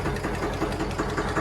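A tractor engine runs steadily nearby, a continuous rough, rattling chug with fast even pulsing and no break.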